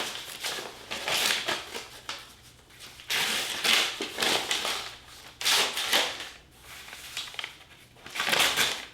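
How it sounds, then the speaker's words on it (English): Paper and plastic wrapping around a package of scroll-saw boards rustle and crinkle close by, in loud bursts separated by short pauses as it is torn open. "So let's go ahead and open it up, pull the boards out,"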